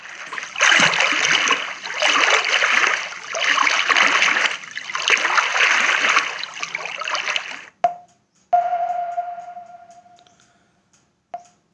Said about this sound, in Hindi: तालाब में तैरने की आवाज़